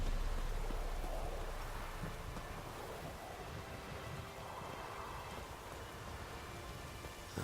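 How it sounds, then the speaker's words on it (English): A storm rolls in during Witcher 3 gameplay, a steady wash of rain and gusting wind that is loudest at the start and then settles into a constant roar. "Oh, storm's coming in."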